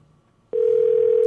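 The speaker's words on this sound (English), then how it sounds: "It says I'm getting a phone call." A steady single telephone tone starts abruptly partway through and holds unbroken to the end, loud and close, signalling an incoming phone call.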